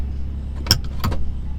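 Ferrari F430 being driven, heard as a steady low engine drone from close by, broken by two short, sharp bursts of revving or rasping exhaust.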